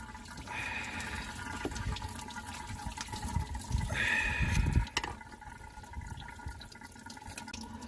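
Coolant gushing out of the thermostat housing on a Ford Mustang 3.7 V6 after the stuck housing is pried loose, a steady splashing water flow that swells louder for a few seconds, then eases to a quieter trickle.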